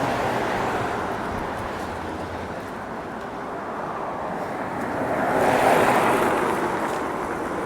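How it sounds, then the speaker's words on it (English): Steady road traffic in a city's West End near a rotary, a continuous rumble of passing cars and buses that swells into a louder vehicle pass near the end, with no talking. "Noisy up here, isn't it? All the traffic."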